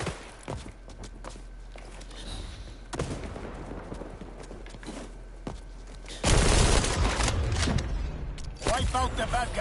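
Gunfire in the shooter xDefiant comes as repeated sharp shots and short automatic bursts, with quieter gaps of footsteps and mechanical clicks, then a louder, denser stretch of firing near the end.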